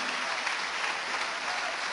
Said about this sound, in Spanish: Dele palmas al Señor de la gloria.